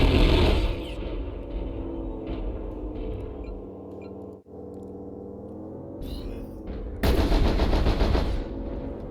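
Large pulse and ER medium lasers fire in MechWarrior Online, loud bursts of crackling energy at the start and again near the end, with a steady droning hum in between and no voices.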